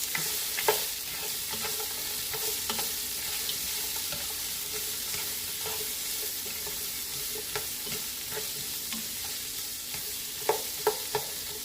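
Frozen peppers frying in a pan for Jamaican-style jerk oxtails, a steady close sizzle running throughout, punctuated by scattered sharp clicks and taps of a utensil, with a small cluster of louder knocks near the end.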